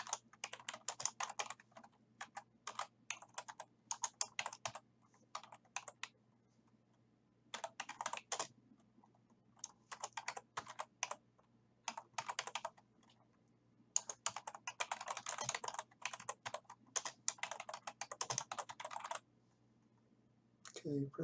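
Keys clatter on a computer keyboard in quick bursts of typing separated by silent pauses, crisp and close, running in clusters throughout.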